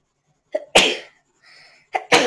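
Two sharp, close sneezes, each opened by a short breathy intake and then a loud burst, separated by a brief quiet pause with a faint soft sound.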